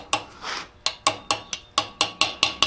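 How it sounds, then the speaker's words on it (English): Steady series of sharp metallic hammer taps on a chisel engraving a steel hammer head, about a dozen evenly spaced close blows with short ringing decay, no talk. "You want to use the same consistent hammer blows throughout the entire"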